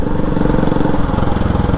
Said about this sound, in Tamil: முன்னாடி ஒரு பல்சர் போகுது, சைலன்சர் வந்து கட் ஆகிடுச்சாட்டிருக்கு.